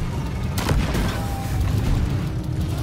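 A resupply pod drops down in Deep Rock Galactic and lands with a heavy boom partway through, above a steady rumble of background game noise.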